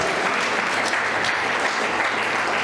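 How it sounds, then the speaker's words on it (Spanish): A church congregation applauds in thanks during a sermon, a dense, continuous wash of many hands clapping at a steady level throughout. "¿Cuántos damos un aplauso de agradecimiento al Todopoderoso, al Rey de la Gloria?"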